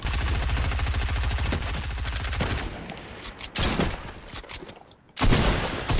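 Rapid gunfire in the Fortnite Chapter 2 battle royale video game, a dense continuous automatic burst that gives way to scattered loud shots and booms, close and forceful.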